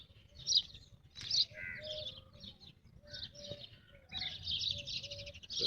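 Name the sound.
birds chirping in an oasis forest in Dubai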